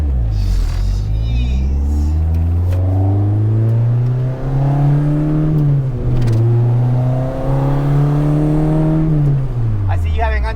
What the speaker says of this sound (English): Oh, now I'm just warming up the tires.